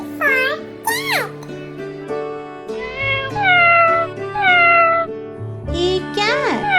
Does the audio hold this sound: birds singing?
no